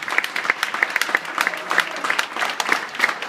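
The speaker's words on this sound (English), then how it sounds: "let's clap our hands for the families" A small audience at a Cambridge Executive MBA graduation claps for the families: sparse, distinct handclaps with an uneven rhythm, fairly close, a modest round rather than a roaring ovation.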